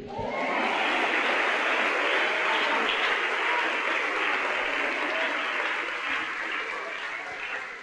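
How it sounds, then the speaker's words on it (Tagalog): A congregation claps during a pastor's sermon, a thick steady roar of many hands that holds for several seconds and eases slightly near the end. "Kayo ngayon lang pumalakpak, huli na kayo."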